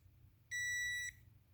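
A multimeter gives a single steady continuity beep, about half a second long, when its two test leads are touched together, ringing out clearly over a quiet low background hum.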